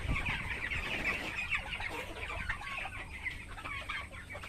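Broiler chickens cluck and squawk in a noisy, dense chorus at feeding time in a poultry house, constant overlapping calls close by with no voices.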